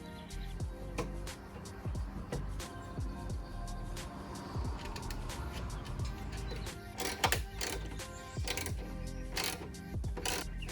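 A ratchet tightens a bolt that secures a tail light to the inside of the trunk of a BMW F32 440i, giving a series of short mechanical clicks and bursts at close range among other handling noises, with no talking.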